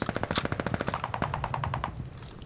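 Call of Duty Vanguard gunfire rattles in a rapid automatic burst of close, loud shots, with a second weapon firing as the first burst trails off.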